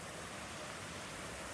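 Cool cascade of falling water in summer, a steady, even rush of broadband noise that holds unchanged and fairly close throughout, with no voices.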